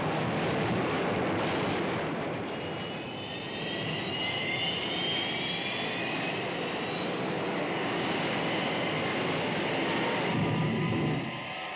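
Roaring rocket engine of the Thunderbird 1 aircraft from the Thunderbirds TV show: a loud, steady, broadband roar with a rising whine, continuous and close, with no speech.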